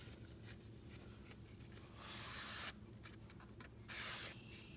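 A rag dampened with gun scrubber solvent wipes along the forearm of a 20 gauge Charles Daly shotgun, giving soft steady rubbing with two brighter, louder hissing passes near the end.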